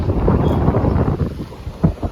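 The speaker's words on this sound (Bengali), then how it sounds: "ঠান্ডা হাওয়া দিচ্ছে পুরো" Cold sea wind blows hard across the microphone by the shore with moored fishing boats nearby, a steady loud rumbling roar with a few stronger gusts and no talk.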